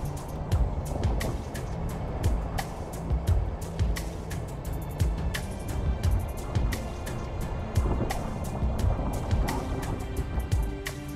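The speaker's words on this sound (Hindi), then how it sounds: "नदी के बहते कल कल छन छन करते पानी की आवाज़ में एक प्रकार का सम्मोहन है।" River water flows continuously near Keoti waterfall in Rewa, Madhya Pradesh, a steady broadband rush with scattered splashing ticks and gurgles, close and moderately loud throughout with no talking.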